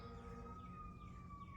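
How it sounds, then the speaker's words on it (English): A faint, distant siren about a mile down a hollow wails with slowly gliding tones over a low rumble, sounding far off and echoing along the valley. "sirens carry a long ways in the hollow."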